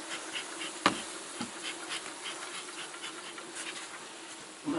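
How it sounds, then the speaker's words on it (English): Honey bees buzz steadily at an opened hive during queen rearing, a dense close hum with a sharp knock early on and a few softer taps. "I'm going to crack the lid on this and smoke the bees down off the top."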